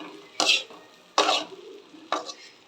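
Bread pieces tossed and stirred in butter in a pan, heard as three short, close scraping bursts with quiet gaps between them.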